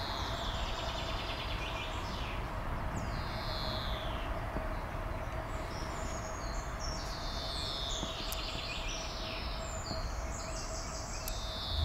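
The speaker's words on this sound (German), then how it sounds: "Na, wir hören den Vögeln zu." Birds singing in the early morning near a federal highway, scattered chirps and whistled phrases over a constant dense background rumble of traffic.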